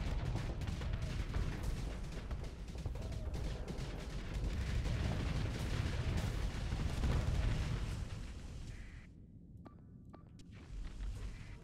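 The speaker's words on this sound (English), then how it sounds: "Go, missiles." Missile salvos launching in the Starsector space combat game form a dense, continuous roar of rumbling bursts and crackles that holds steady, then thins and fades near the end.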